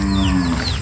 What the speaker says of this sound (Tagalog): May baka pa uli.